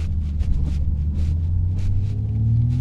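Hyundai IONIQ 6 N electric car playing a synthetic engine note that burbles like an AMG or Aston, a steady low rumbling drone with a rising tone near the end, close and continuous.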